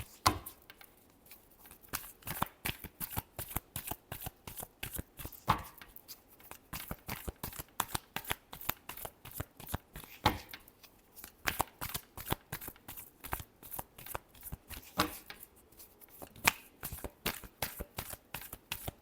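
Tarot cards are shuffled by hand in a rapid, continuous run of crisp riffling clicks, close up, with brief pauses between bursts and no talking.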